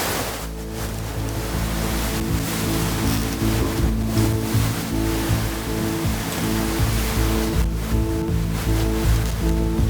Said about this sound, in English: we're figuring that the waves are around nearing 4 meters